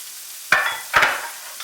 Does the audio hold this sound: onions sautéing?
yes